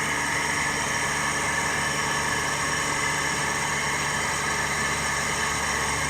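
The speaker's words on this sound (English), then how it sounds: "So I am reducing the frequency. Obviously, the speed is also reducing." A three-phase squirrel cage induction motor under V/f speed control, running near 1448 RPM as its supply frequency is lowered, gives a steady, continuous hum with broadband whine, even and unbroken throughout with no talk.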